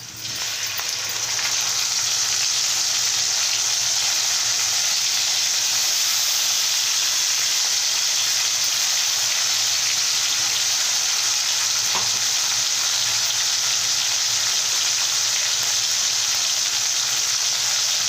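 Tomato paste sizzles in a hot pan, a loud, continuous hissing sizzle, steady throughout with a brief faint clink partway through.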